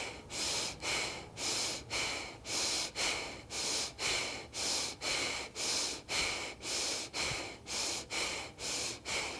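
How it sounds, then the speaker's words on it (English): Quick, forceful breaths in and out through the nose during a yoga breathing exercise, about twenty sharp, evenly spaced puffs in a brisk, steady rhythm, close and clear with no talking. "just quick inhales and exhales through the nose"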